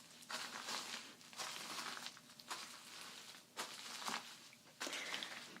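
Slow footsteps crunch on dry crunchy material spread over a plastic tarp, each step a close crinkling, crushing burst separated by short quiet gaps.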